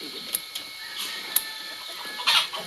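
Chickens and turkeys feeding on madre de agua leaves outdoors, with a few short clucks and scattered pecking clicks over a steady soft background, fairly close.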